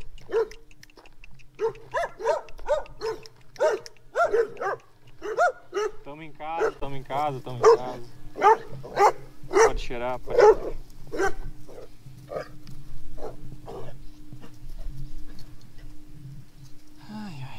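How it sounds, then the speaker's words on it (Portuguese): A dog on the road up to Morro do Cachorro in Brazil barks in a run of repeated, fairly close barks, while someone speaks Portuguese briefly. "Vamos ver se o cachorro vai me catar."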